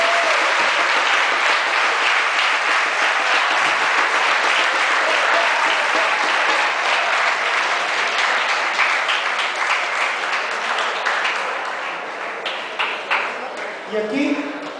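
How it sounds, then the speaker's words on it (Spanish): A large audience at a recognition ceremony gives a speaker a loud, sustained ovation of dense clapping. It holds steady for about ten seconds, then thins into scattered claps and light crowd noise. "yo creo que merece un fuerte aplauso"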